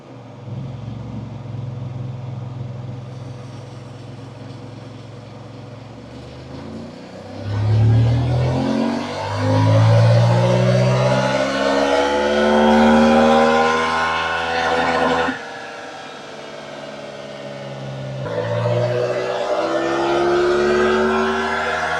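A stock Voge DS 800 X Rally motorcycle on a dyno, with original exhaust can, link pipe and air filter, idles with a low rumble, then revs hard in rising sweeps, drops back and climbs again, loud and close.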